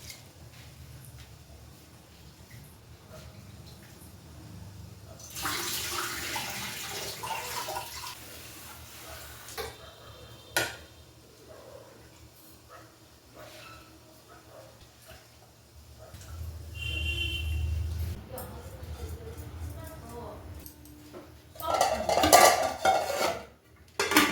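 Raw rice poured into a cooking pot for pulao gives a soft, rushing patter, mixed with clinks of pots, utensils and running water in a home kitchen, with no talking.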